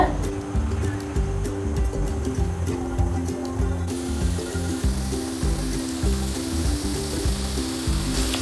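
Chicken samosas dropped one by one into hot oil over a medium flame, giving a steady, close bubbling sizzle that runs throughout, with soft tonal music underneath.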